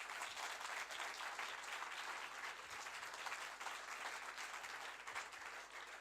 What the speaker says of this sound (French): applaudissements, mesdames, messieurs, s'il vous plaît.